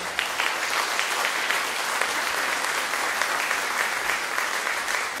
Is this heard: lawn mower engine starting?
no